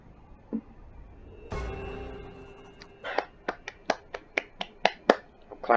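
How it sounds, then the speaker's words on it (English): A burst of noise followed by a quick run of sharp, evenly spaced video game claps in Crusader Kings II, about a dozen, growing slightly louder toward the end. "Clapping."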